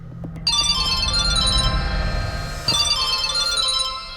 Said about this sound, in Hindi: भाविनी जी का फोन